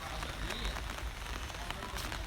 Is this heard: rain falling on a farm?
yes